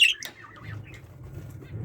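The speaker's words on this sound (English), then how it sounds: "that's one of the zebra finches in there with little babies" Zebra finches in a packed aviary with their babies, giving a short loud squawk-like call at the start followed by softer low chatter and faint chirps.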